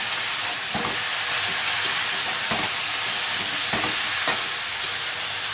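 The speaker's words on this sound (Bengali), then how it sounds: "এখন সবজিগুলো আমি দিয়ে দিচ্ছি। ভালো করে আমি এবার নেড়ে দেব।" Vegetables fry in a pan under a constant loud sizzle while a spoon stirs them with regular scraping knocks, close up and with no talk.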